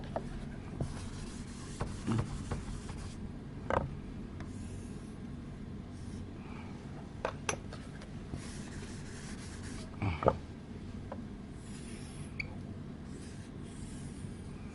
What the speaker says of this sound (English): Or I will draw it this way.